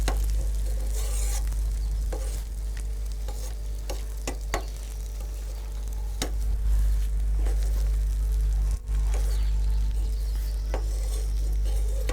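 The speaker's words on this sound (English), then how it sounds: "and then we give it some time to fry." Potatoes and chicken fry steadily in a pan with a constant close sizzle, broken by occasional clicks and stirring scrapes. No one speaks.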